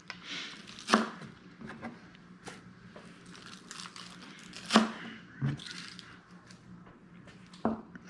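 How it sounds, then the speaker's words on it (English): Green onions cut by knife on a board, uneven quiet chopping with a few sharper louder chops standing out, close and without talk. "And then we'll cut green onions."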